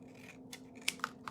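Scissors cutting a CD for origami, giving a few quiet, sharp snips and scratchy clicks spaced irregularly over a soft background hum.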